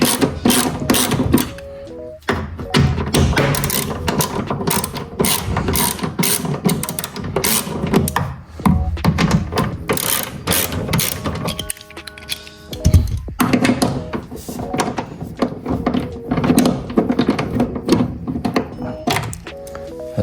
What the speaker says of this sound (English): this speaker is just held on by 3 10mm bolts. So let's crack them quickly.